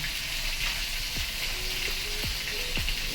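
Ginger paste and red chilli powder frying in oil for a Bengali winter-vegetable moong dal, giving a continuous soft sizzle broken by a few sharp metallic clinks of a spoon against the pan, with no talking.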